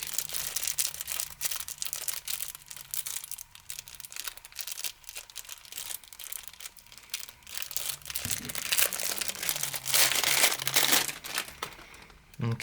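Plastic wrapping crinkles and tears as it comes off a YJ MGC 6x6 puzzle cube, with close, continuous crackling that grows louder and busier toward the end.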